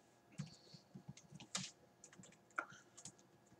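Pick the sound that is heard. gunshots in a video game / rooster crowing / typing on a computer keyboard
typing on a computer keyboard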